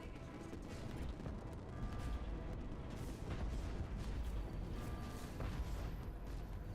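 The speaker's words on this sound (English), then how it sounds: "I'm a sucker for these large artillery cannons." Large artillery cannons firing in the game Outpost: Infinity Siege, heavy booming blasts rolling into one another over a thick, continuous rumble of battle noise, loud and dense throughout.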